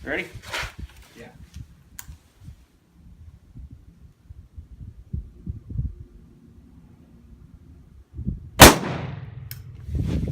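A short-barreled Handi Rifle SBR fires a subsonic round in one sharp, loud report near the end, with a short ringing tail. People talk quietly before the shot and again right after it.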